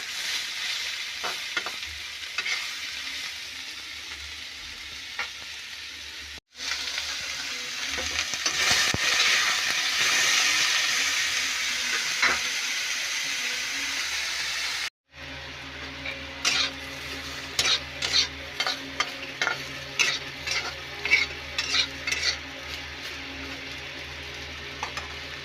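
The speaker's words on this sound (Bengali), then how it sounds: "প্রথমে কড়াইয়ে সরিষার তেল গরম করে আলু ও গাজর হালকা করে ভেজে তুলে নিন" Potato and carrot frying in mustard oil in a wok (kadai), a continuous sizzle broken by two short cuts, with repeated clinks of a spatula stirring in the later part and no voices.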